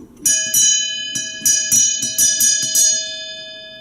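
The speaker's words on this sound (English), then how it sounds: "when the kettle's boiled and I'm in the mood for some visitors, I ring the bell" A hand bell rung on an allotment to announce that the kettle has boiled, giving about nine sharp, bright rings in an uneven quick rhythm, each ring leaving a sustained metallic tone, loud and close with no talk.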